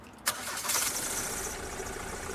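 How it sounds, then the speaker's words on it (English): A vehicle engine starts in the Airport Sim video game, a sharp onset followed by a steady mid-range running hum that continues alone to the end. "Engine must be turned on."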